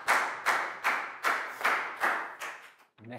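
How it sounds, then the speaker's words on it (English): A classroom of young children claps together in a schoolroom, about eight loud rhythmic bursts of unison clapping at a steady pace, each fading quickly before the next, ending with a brief rustle. "High five and a big round of applause for Dan"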